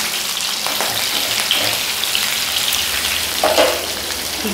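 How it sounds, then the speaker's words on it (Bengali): Chicken pieces fry in a pan, giving a continuous close crackling sizzle with scattered pops and a few louder spatters, and no talk over it. "এক পিঠ হয়ে গেছে, আর এক পিঠ ভেজে নিচ্ছি।"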